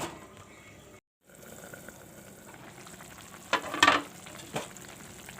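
Soybean chunks and green banana in a yogurt curry bubbling in a covered pan, a soft continuous simmering hiss with a brief dropout and a few louder bubbling bursts near the end.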